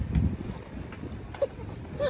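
Wind buffets the microphone in low, rumbling bursts, strongest at the start, with a faint voice briefly audible in the background.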